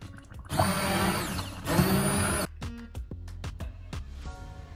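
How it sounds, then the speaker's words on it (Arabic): A hand blender purées onion, potato and pumpkin soup in a pot, a loud continuous whirring that runs for about two seconds with a brief dip partway, then stops and gives way to short clinks and knocks. "من بعد ما داز 15 دقيقة غادي ناخد ميكسور وغادي نطحن"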